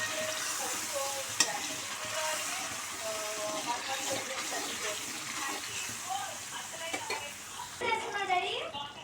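Fish curry with tamarind juice being stirred in a cooking pot gives a steady wet scraping and bubbling that runs throughout, with faint voice-like sounds in the background.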